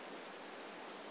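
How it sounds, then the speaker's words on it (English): Steady rain falls in the Farming Simulator 22 video game, a soft, even hiss of downpour with no breaks, faint and continuous throughout. "get out of this rain"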